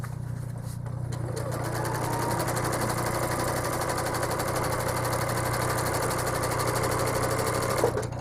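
A home sewing machine machine-quilts a quilt with a continuous close whir and a rapid, even stitching rhythm throughout.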